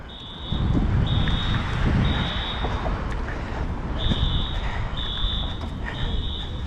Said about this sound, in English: Must be school alarm.